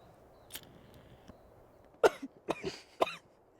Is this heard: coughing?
yes